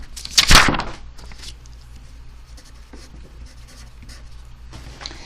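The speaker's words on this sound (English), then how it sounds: "Let's write that down." Pen strokes on paper while working out a card probability problem. A louder scratch comes first, then light, irregular scribbling taps and faint rubbing close by, with no speech.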